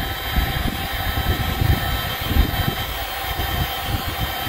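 An 18-volt Ryobi battery-powered heat gun runs steadily up close, a continuous whooshing fan hum with a low motor rumble, heating a GPS tracker unit during installation.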